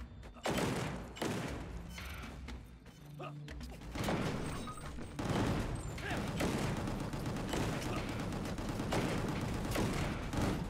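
Grenade launcher explosions in the game Gungrave G.O.R.E, set in a Vietnam area: repeated loud bursts and rumbling blasts mixed with mechanical clanks and gunfire, rolling on for several seconds.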